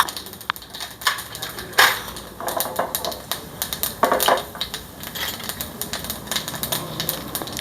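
Rapid irregular crackling and popping of mustard seeds spluttering in hot oil for tomato curry, close and fairly loud with sharper pops scattered throughout.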